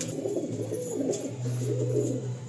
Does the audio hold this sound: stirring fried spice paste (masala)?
no